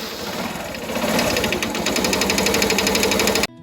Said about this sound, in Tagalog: makaka-experience sila nung tinatawag na engine knock, yung bang kumakatok-katok yung makina nila kapag umaandar sila.